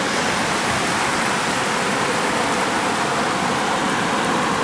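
Cold stream water rushing steadily at a forest campsite beside the Aire River crossing in the Otways, Victoria, a loud, close, continuous broadband wash with no pauses and no voices.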